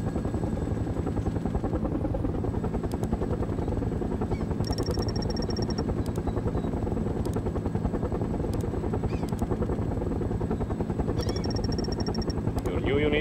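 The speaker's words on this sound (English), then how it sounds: "Heavy gunship ready for combat. Waiting for orders. Helicopter out. Destination received. MI-24 on the way." A Mi-24 helicopter gunship in the World in Conflict video game, its rotor chopping in a steady rapid thump throughout, with faint beeps and voices in the background.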